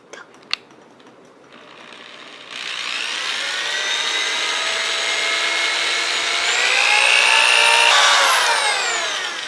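A power drill whines steadily and loudly at close range for several seconds, drilling holes in a Nerf blaster, its pitch rising slightly, after a few faint clicks at the start.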